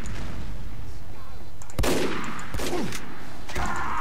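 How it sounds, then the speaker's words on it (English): Rapid bursts of machine gun fire in the Team Fortress 2 video game, loud and close, coming in several sharp volleys with brief gaps over a steady background. "Get my machine gun out."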